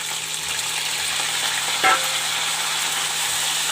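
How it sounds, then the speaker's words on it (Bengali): Onion fries in a pan with potato, cumin and a dried chili, giving a steady close hiss of sizzling oil, broken by one brief clink of a utensil partway through. "পেঁয়াজ কালিটা একটু ভাজা ভাজা করে নেব।"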